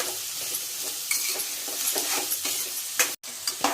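Ivy gourd pieces frying in a pan sizzle steadily while a spoon stirs them, with repeated scraping strokes over the hiss and a brief drop to near silence toward the end.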